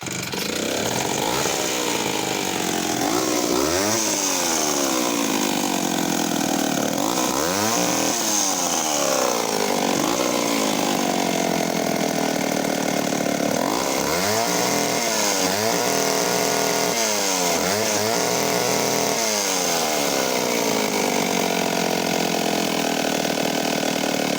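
A vintage PM Canadien 270 professional 95cc chainsaw runs on its own, its engine repeatedly revving up and dropping back to a rough idle in a series of rising and falling whines.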